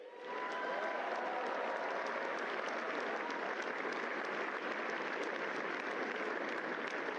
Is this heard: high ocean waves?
no